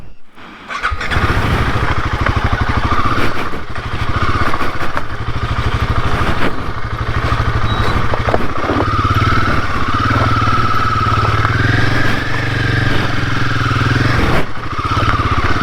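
A Royal Enfield Himalayan 450 motorcycle engine drones loud and close while riding off-road on a trail near Venkatagiri, revving steadily with rising and falling pitch and some mechanical squeal across the whole stretch.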